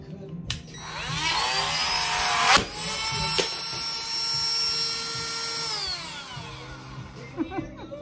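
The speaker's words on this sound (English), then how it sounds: "since the little piece of wood was too long, I needed to cut that down. So I'm using my Dremel," A Dremel rotary tool cuts down a small piece of wood, a loud steady high whine that spins up, holds for several seconds, then winds down, with brief knocks near the start and end.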